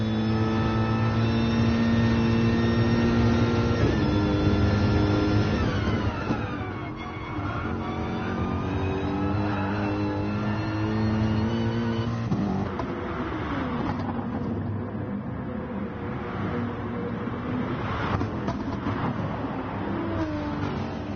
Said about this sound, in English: Every driver is now leaving the pit lane to go on their out laps